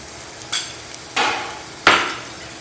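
Chopped onion stir-fried in a pan for a Maharashtrian crispy bitter gourd dish, heard as three short scraping, sizzling bursts spaced about a second apart, fairly close, with no voices.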